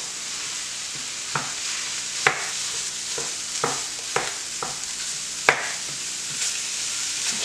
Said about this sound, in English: I'm going to now add the ground beef, and you're going to brown that all the way through.